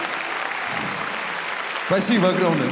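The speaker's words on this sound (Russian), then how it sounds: "Нескончаемые аплодисменты самим же себе!" Concert audience clapping at a Slavianski Bazaar pop performance, a dense, fairly distant wash of applause that continues as someone speaks briefly over it near the end.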